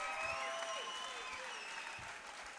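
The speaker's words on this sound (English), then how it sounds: "let's get a nice round of applause out here for both of these fighters" Crowd applause for both fighters after a three-round bout at Beach Channel, a dense steady wash of clapping with some whistling or cheering tones on top, fairly loud and sustained.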